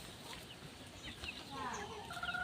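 Broodcock chickens cluck softly in a yard, with scattered short calls and faint chirps rising toward the end over low background noise, and a voice speaks quietly under them.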